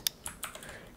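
Brief burst of computer keyboard typing as a website link is entered, a few quick close keystrokes in quick succession, with no speech.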